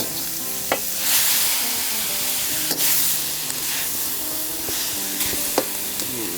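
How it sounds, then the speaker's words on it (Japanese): Vegetables stir-frying in a pan with Yasumaru spice dashi, a steady loud sizzle and hiss with occasional clinks of the utensil against the pan, no voices. "安丸スパイスだしを使った野菜炒め"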